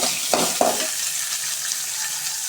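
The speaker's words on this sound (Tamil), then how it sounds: "அது கூடவே ஒரு பத்து பல் பூண்டும் சேர்த்து வதக்கலாம்" Garlic cloves with ginger sautéing in hot oil in a pan for raw banana kola balls, giving a steady, even sizzle with two quick stirring scrapes near the start.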